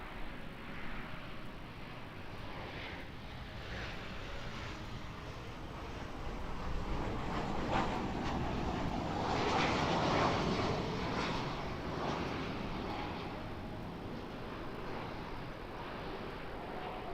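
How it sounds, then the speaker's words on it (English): Qantas Boeing 737 arriving from Sydney at Auckland Airport, a steady jet engine roar that swells to a peak midway and then eases, moderately near, with no talk. "Just coming in now to Qantas 737 in from Sydney"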